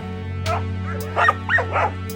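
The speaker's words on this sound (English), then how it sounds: "Their sharp barks shattered the silence." Several sharp barks from hunting dogs on a wild boar hunt ring out in short bursts over a steady low hum, close by and fairly loud.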